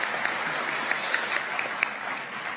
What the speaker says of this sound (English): I'm gonna make you applaud for that